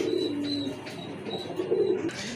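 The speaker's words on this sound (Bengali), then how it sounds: "খুবই চমৎকার কোয়ালিটি ফুল এক জোড়া কবুতর, গড়া কবুতর, ব্ল্যাক অ্যান্ড হোয়াইট কালারের ভিতরে" A pair of black-and-white pigeons coo in a short run of soft, repeated, throaty calls, close by and clear over a faint background hum.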